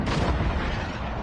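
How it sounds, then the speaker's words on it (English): Precision airstrike explosions in Call of Duty land as a heavy, rumbling barrage of booms, loud and low, with no voices over them. "Enemy precision airstrike"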